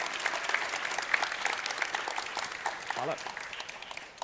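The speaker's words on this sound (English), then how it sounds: "Let's give a round of applause." Audience applause for a speaker at the close of a tech-scene talk on South-East Europe: steady, dense clapping from a crowd, fairly distant and even, with a brief voice near the end.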